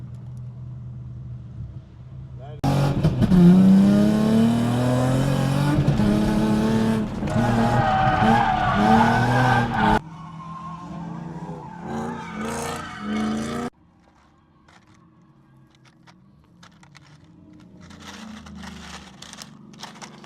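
A drift car skids at a drift event with a loud, revving engine and squealing tires for several seconds, then drops back to quieter, more distant engine and tire noise that fades toward the end.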